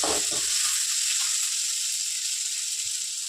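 Onions and tomatoes fry for mutton curry in a pan, giving a steady, close, bright sizzle with a few soft stirring knocks at the start.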